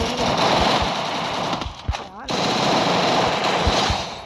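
Rapid automatic gunfire in a shooting video game, loud, dense bursts running almost continuously with a short lull midway, with a voice faintly underneath.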